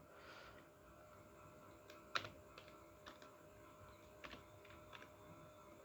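Quiet, close keystrokes on a computer keyboard as a search is typed into a browser bar, a sparse run of soft clicks over faint room hiss.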